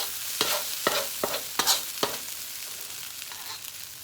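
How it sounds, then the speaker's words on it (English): Fried rice being stirred in a hot oiled pan, with a steady soft sizzle broken by several sharp scraping strokes of the utensil, close and fairly quiet. "We're going to mix that a little more."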